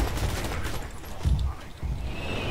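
Gunfire from a sniper rifle in the shooter game Borderlands 2, heard as a few heavy, booming shots close up over a dense battle din, with a stronger blast in the middle.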